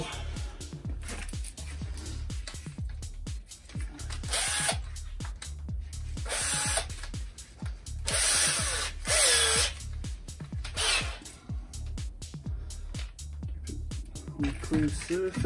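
A power drill whirs in repeated bursts during work on a Honda CX500 motorcycle, rising and stopping between pulls, close by, with a voice talking underneath.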